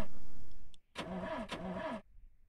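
A car engine starting in The Long Drive desert road-trip game: after a noisy start and a brief pause, the starter cranks in two quick whirring bursts, then the engine runs at a moderate steady level and drops quiet.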